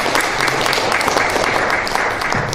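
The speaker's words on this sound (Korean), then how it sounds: "다시 한번 박수 부탁드리겠습니다" Audience at an international fire investigation conference applauds after a presentation, a steady, dense wash of many hands clapping close and loud throughout.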